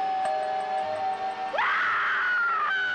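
Eerie wailing screams of the dead play as a horror movie radio advertisement effect, a sustained tone sliding upward into a loud, anguished, trembling cry.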